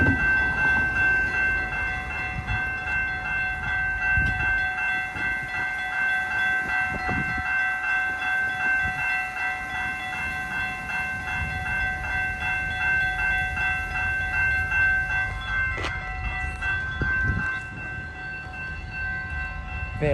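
A passenger train runs steadily past a walkway crossing in Newmarket, its sustained horn chord ringing loud and close over rumbling rail noise for nearly the whole stretch before easing off near the end.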